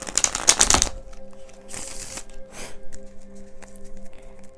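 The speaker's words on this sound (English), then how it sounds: "Let's go ahead and get another shuffle here." A quick burst of tarot card shuffling, crisp riffling up front, followed by a couple of softer shuffles over a faint steady hum.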